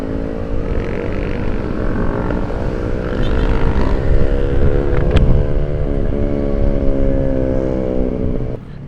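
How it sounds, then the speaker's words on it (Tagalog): A Honda ADV 160 scooter's loud exhaust drones steadily in heavy rain, its engine note rising and holding close to the rider, with rain and wind noise washing over it and no speech. "Lakas ng exhaust ni sir."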